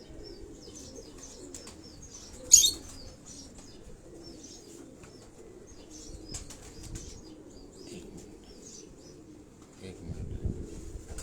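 Pigeons in a Lahore loft give faint, low cooing throughout, with a sharp burst of wing flapping early on and a voice talking quietly in the background.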